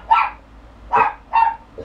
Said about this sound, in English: He's barking because Gigi's barking